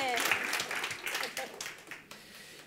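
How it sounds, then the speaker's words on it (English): Audience applause during a church service, a burst of clapping that fades and thins out over a few seconds, with voices talking over it. "Give me a clap."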